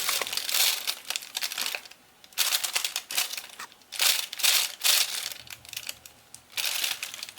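A plastic starter pot crinkles and crunches as it is squeezed and mangled while a plant is pulled out, in close, loud bursts of crackling with short pauses between them.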